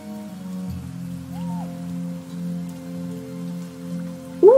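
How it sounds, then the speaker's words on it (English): Steady rain falling in the genetic survival video game Niche, a soft continuous patter under a low sustained musical drone, with a brief rising tone near the end. "Ooh, it's raining."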